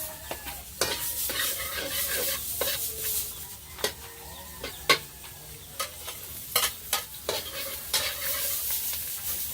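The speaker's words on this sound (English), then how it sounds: "For the onion, we put the garlic." Garlic and onion fry in a pan over a wood fire outdoors, a close sizzle broken by frequent sharp scraping and clattering stirs.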